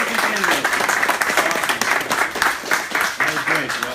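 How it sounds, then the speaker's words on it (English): An audience claps for three Republican city council candidates in Long Beach, New York, giving steady, moderately loud applause throughout that sounds close and full. "let's have a round of applause for our three Republican candidates"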